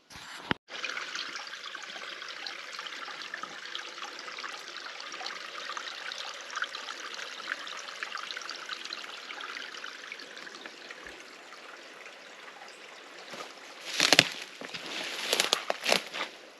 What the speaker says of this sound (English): They blocked most of it off so not much water's flowing in it.